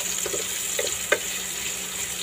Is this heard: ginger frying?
yes